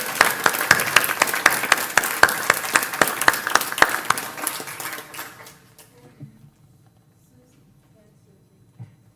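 Applause at a Unitarian Universalist church Sunday service in Roanoke, many hands clapping steadily for about five seconds before thinning out and fading to near silence, with a lone late sound near the end.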